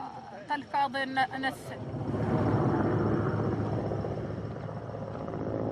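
A helicopter's rotor drone rises and holds as a steady, fairly loud broadband roar after a few seconds of talking over a refugee camp in the Sahel, Mali.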